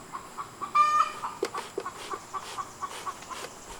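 A hen in a backyard flock clucking after laying an egg, a run of repeated rhythmic clucks with one drawn-out squawk early on, moderately close over a quiet background.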